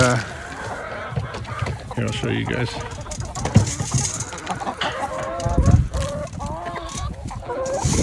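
Chickens and roosters cluck and call inside a barn, scattered throughout and fairly close, while a person talks over them.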